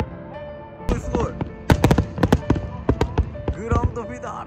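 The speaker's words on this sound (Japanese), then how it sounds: "富士スピードウェイから覗く花火大会、これは最高すぎる花火になっているぞ。" Fireworks bursting over Fuji Speedway during its 8000-shot fireworks festival: a rapid series of sharp booms and crackles, some close together, with excited voices exclaiming over them.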